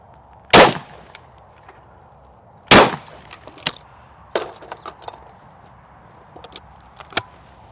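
A budget £150 shotgun fires at clay targets outdoors: two loud, sharp shots stand out well apart, followed by fainter, smaller cracks and clicks, with no talking.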